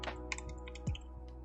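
Quick, light keystrokes on a computer keyboard, several uneven clicks and taps in a short burst, close and fairly quiet, with no talking.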